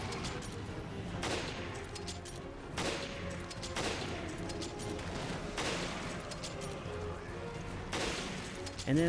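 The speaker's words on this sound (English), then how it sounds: "And then I just shoot these guys with the sniper rifle." Heavy gunfire in Resident Evil Revelations Trench Raid mode, loud sharp shots at irregular intervals, roughly six distinct bursts over a constant din of game noise, without talk.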